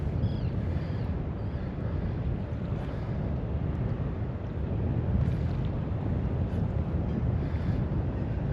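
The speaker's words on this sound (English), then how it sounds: "Oh yeah, it is a bit windy." Steady wind buffets the microphone on a fishing boat off Sandy Hook, a constant low roar with faint water wash, no voices.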